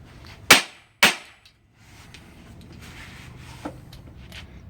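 Two sharp, loud whacks of a bullet puller being struck a half-second apart to knock out a 300 AAC Blackout bullet, followed by quieter rubbing and handling noises.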